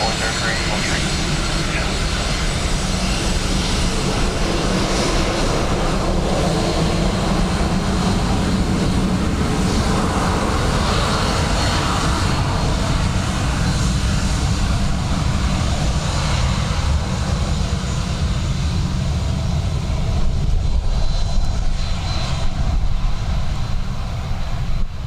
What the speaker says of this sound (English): Emirates already landed. EK 161.